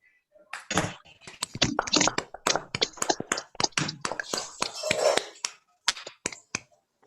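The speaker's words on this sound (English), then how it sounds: "So now I request everybody to unmute themselves for 5 seconds and give a round of applause." Participants in an online Toastmasters club meeting unmute and clap together, producing a dense burst of sharp, irregular claps from several remote microphones that runs for several seconds before stopping.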